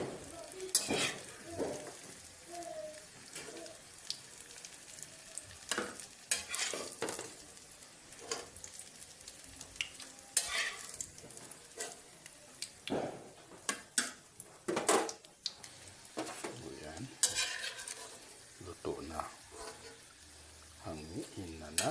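Ukoy fritters made with katuray flowers fry in a pan, with soft sizzling and intermittent scraping and clinking of a utensil against the pan, quiet and close, with some talking in between.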